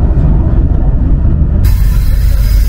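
A train runs on rails between stations on the Kuala Lumpur to Penang line in Malaysia, a loud, steady rumble and rattle with a sudden rise in hiss partway through.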